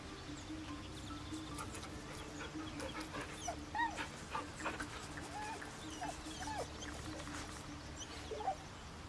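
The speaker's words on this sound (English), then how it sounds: "One of the few joys of video games is petting the dog." A dog in the video game Baldur's Gate 3 gives soft whimpers and small yips while being petted, several short calls over quiet game ambience.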